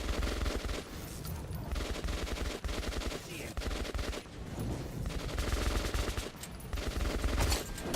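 Sustained automatic gunfire in the Metro 2033 Redux video game, loud and close, rattling in rapid continuous bursts with brief gaps, several weapons overlapping.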